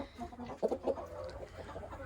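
A broody Cochin hen in the corner of a barn gives a short run of low, soft clucks and grumbling notes, close by and fairly quiet, with no talking.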